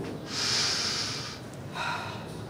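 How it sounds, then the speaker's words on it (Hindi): A patient draws in a long, deep breath and lets it out during a doctor's medical checkup, two airy breath sounds close to the microphone with no talking. "लंबी सांस लीजिए, गहरी सांस।"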